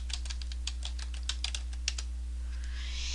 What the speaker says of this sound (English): Now I can go ahead and type in a web address here.